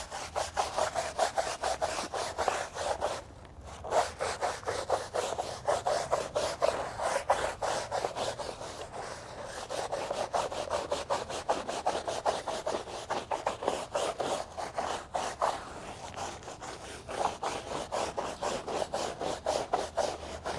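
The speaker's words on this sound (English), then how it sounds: "So just scrub it back and forth." Steady back-and-forth scrubbing of a rubber car floor mat lathered with foaming Matte Renew cleaner, a continuous raspy brushing rhythm that runs close and fairly loud throughout with only a brief pause.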